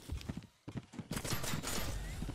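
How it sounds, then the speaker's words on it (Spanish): Bursts of gunfire from outside in the survival game Xera: Survival, rapid cracking shots layered with other busy game noise, fairly close and loud. "Están disparando fuera, yo creo que no saben que estamos ahí"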